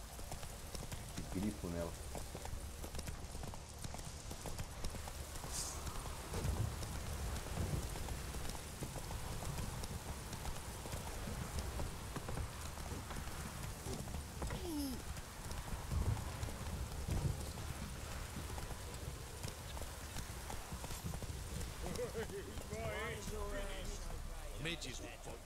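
Horse hooves clip-clop steadily over a rainy soundscape in The Witcher 3 game, continuous and mid-distance, with people talking over it throughout.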